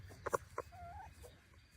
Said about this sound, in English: this is our mixed flock, which means we have hens and roosters